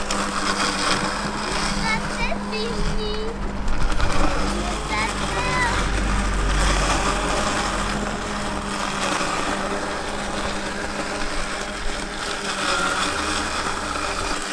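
A Mammotion Luba 2 electric robot lawn mower cuts grass, giving a steady, continuous whirring motor hum with slight wobbles throughout. A person speaks French over it.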